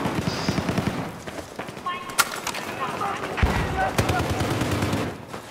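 Rapid gunfire in the Battlefield 4 game, a pistol firing in quick repeated shots amid other battle noise, loud and continuous throughout with a voice talking over it.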